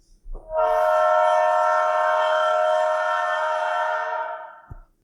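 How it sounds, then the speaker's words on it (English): A loud train horn blasts as one long, steady, sustained tone for about four seconds, then cuts off, with a thud at the start and end. "The sound of a loud train horn jolts me back into reality"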